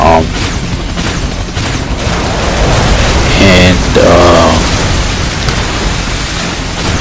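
Rocket explosions in Ninja Gaiden 3: Razor's Edge, loud rumbling booms over a dense wash of game noise, with a few sharp tonal effects and a voice talking over them.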